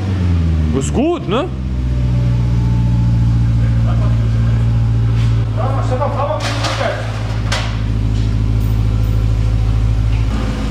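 A BMW E38 730i with a modified exhaust rumbles loudly at idle with a deep throaty exhaust tone, briefly blipping early on; a person speaks over it.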